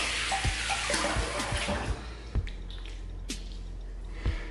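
Water splashed onto skin during a wet shave with a puck shaving soap, heard as a few scattered close drips and soft wet squishes over faint running water, with no voices.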